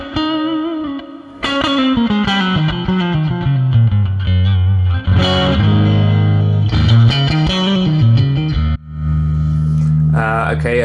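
Electric guitar played through a Fractal Axe-FX modeling a Fender Twin-style amp with bright switch on, clean blues tone; sustained chords and bends ring out loud and steady, ending with a held note and a brief flurry.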